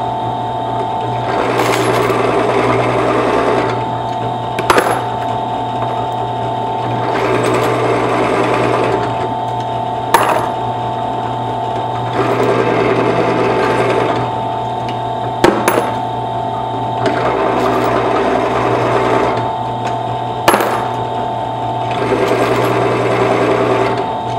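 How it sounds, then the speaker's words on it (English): RCBS 3-Way Trimmer trimming, chamfering and deburring brass cases, a whirring motor buzz in repeated bursts of about five seconds each, with a sharp click or clack as each case is swapped. "So let's cut to a video of me running a bunch of cases"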